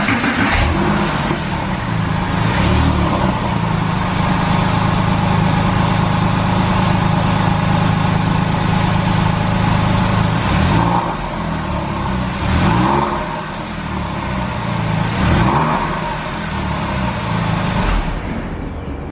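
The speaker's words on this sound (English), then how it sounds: "Let's just have another listen to the sound of the exhaust now." Porsche 911 running on its original exhaust before replacement, a continuous deep engine drone with several brief revs swelling in the latter half, heard alone with no talking.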